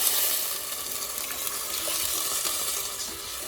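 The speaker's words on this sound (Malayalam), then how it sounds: "അതിലേക്ക് 2 ഗ്ലാസ് വെള്ളം ഒഴിച്ചു കൊടുക്കാം" Water pours steadily from a glass into a pot holding one glass of raw rice, a continuous close splashing stream with no speech, for simple ghee rice.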